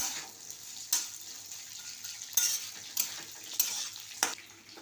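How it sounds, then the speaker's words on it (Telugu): Urad dal frying in a pan, a faint sizzle under a series of sharp spoon-on-pan scrapes and taps, about six of them at irregular intervals. "ఇదిగోండి వేగిపోయినాయి మినపప్పు కూడా ఫ్రై అయింది మంచిగా"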